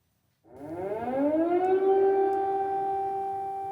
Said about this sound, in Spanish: Sirenas de alarma se han escuchado en todo el territorio ucraniano durante la jornada de hoy.